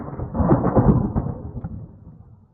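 Heavy rain and a thunderstorm at night, a deep rolling rumble of thunder over steady rain that swells and then fades out.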